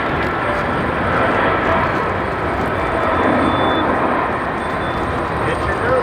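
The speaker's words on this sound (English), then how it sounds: "the first takeoff after the runway change." An Abu Dhabi airliner takes off from JFK, its steady broadband jet roar holding loud and unbroken from start to finish.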